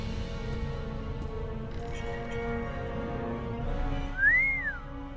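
A single clear whistled phrase rising and falling near the end, heard over steady background music and ambience in the point-and-click mystery game The Raven Remastered.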